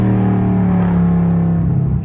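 A 550-horsepower Dodge Scat Pack V8 drones loudly from inside the cabin while driving, holding a deep steady exhaust note that shifts slightly near the end as it downshifts; no one speaks.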